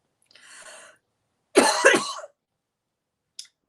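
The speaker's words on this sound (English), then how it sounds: "coughed the camera out as well" A person coughs alone in a quiet room: a short first cough, then a louder, harsher burst about a second later, followed by a tiny clipped sound at the end.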